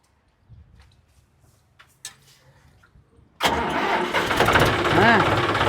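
A tractor engine cranks and catches after a few quiet seconds, then roars loudly at high revs, running steadily close by.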